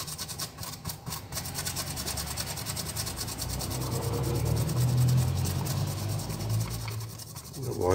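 A brush scrubs across an LG TV circuit board, making a close, steady rasping and rubbing noise with short sweeping strokes that swell and fade, with no speech over it.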